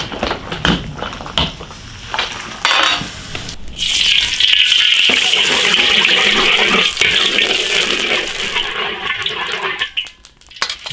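Blanched beef ribs are rinsed under running water, a loud, close, steady gush and splash lasting several seconds, with clatter and handling before it and the flow easing off at the end.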